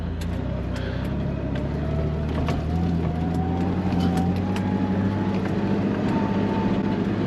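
A Honda CR-V driven hard like a rally car over whoops gives a loud, steady engine drone from inside the cabin, the pitch slowly climbing, with rumbling road noise and occasional knocks from the suspension.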